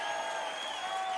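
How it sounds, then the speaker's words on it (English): Audience applause and crowd noise at a live concert, a steady wash of clapping and cheering that fills the whole short moment at an even level. "Miss Candace Hayes, give her a big round of applause."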